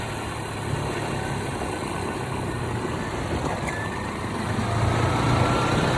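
Motorbike engine running steadily at a low, even idle-like hum, close and continuous throughout, slightly louder toward the end.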